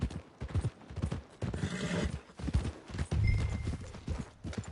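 Horse hooves clip-clopping in the Red Dead Redemption 2 video game, an uneven trot of close hoofbeats over game ambience with a brief creak or whinny-like tone.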